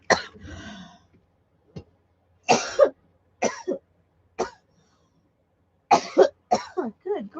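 Close, dry coughs from a woman come in short separate bursts, some single and some in quick pairs, with brief silences between them.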